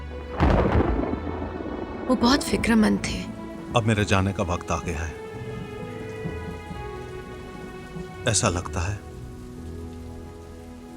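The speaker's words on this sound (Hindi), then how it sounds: "और बादल गरजने की आवाज आ रही थी।" Steady rain falls on surfaces throughout while deep thunder rumbles and cracks nearby in several bursts, under a voice speaking.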